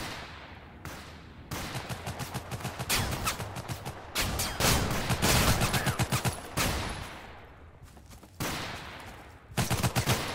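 Gunfire from the Total Conflict: Resistance video game, repeated bursts of rapid shots and single loud cracks spread across the span, with brief pauses between volleys and no talking.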